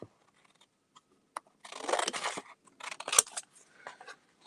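Scissors snip and crunch through paper in a few close, crisp bursts separated by short pauses, with no talking.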